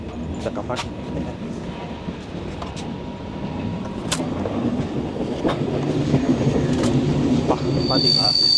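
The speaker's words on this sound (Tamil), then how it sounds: "ஸோ இதான் நாங்கள் வந்த ட்ரெயின்." Passenger train on a Chennai to Varkala journey, a steady rolling rumble of rail wheels and carriage noise growing slightly louder, with brief squeals and clanks, heard from inside a nearly empty compartment.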